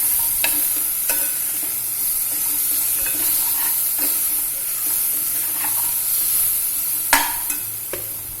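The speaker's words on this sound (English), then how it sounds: "I want slightly browned onions, not completely charred like we make for birista" Onions frying until slightly browned hiss steadily and loudly in the pan, punctuated by repeated clicking stirs and a sharper clatter toward the end, no speech.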